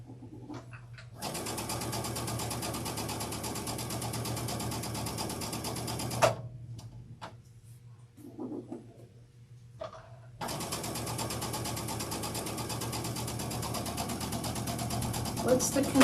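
A sewing machine stitching a Thanksgiving table runner runs in two long steady whirring bursts with a quieter pause between, where someone talks briefly and small clicks sound.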